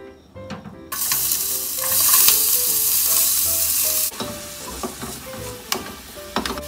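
Chopped onion hitting hot oil in a mess tin over a camp flame, bursting into a loud hiss that holds for a few seconds then settles to a quieter crackle with spatula scrapes.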